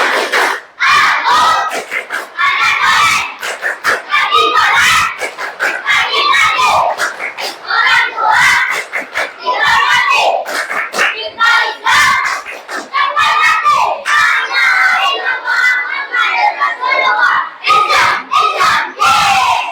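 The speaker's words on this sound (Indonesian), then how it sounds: "yuk tepuk anak soleh" A class of children performs the rhythmic 'tepuk anak soleh' clapping chant together, loud shouted group voices and bursts of hand claps in a steady beat, close and lively throughout.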